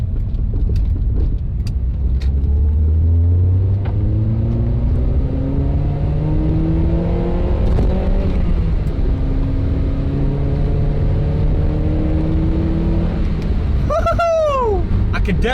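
Honda Prelude engine revving hard while accelerating down a straightaway, its note climbing steadily through the gears and rising sharply as VTEC engages, loud and constant, with brief talk over it near the end.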